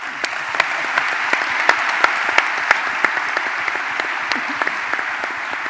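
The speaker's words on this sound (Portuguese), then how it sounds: "Umas palmas para ti, Duarte" Sustained applause from an audience at a roundtable panel of entrepreneurs, dense steady clapping with sharper individual claps standing out throughout.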